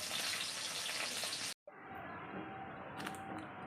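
Fish sizzles as it fries in a pan, a dense, steady crackle that cuts out briefly midway and then resumes slightly quieter, with no voices.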